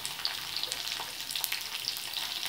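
Black mustard seeds frying in hot oil for a tomato chutney, a steady bright sizzle with faint scattered pops throughout, close and continuous with no talk.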